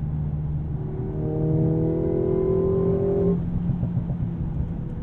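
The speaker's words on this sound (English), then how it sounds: "where you get these pops of overrun" A 2022 Mercedes-AMG GLA45 in a sporty drive mode pulls hard with a loud, rising engine drone, then lifts off sharply into a lower, steady exhaust burble.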